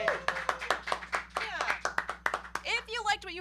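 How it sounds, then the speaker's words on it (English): A small group claps at the close of a livestream, sharp separate slaps with talking voices over them. "Yeah, round of applause."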